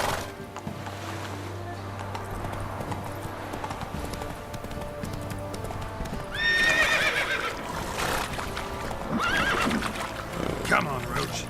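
Roach, a horse in The Witcher 3, gallops with steady rhythmic hoofbeats and lets out loud whinnies partway through, close up over a game background, while a person talks.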